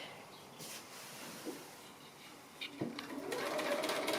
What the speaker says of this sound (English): So I'm just sewing the last side of the surround on.